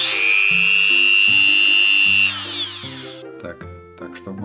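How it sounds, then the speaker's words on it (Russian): An improvised mini drill whines at high pitch, steady for a few seconds before stopping, followed by clattering handling noises. "Теперь здесь получилось мини-дрель."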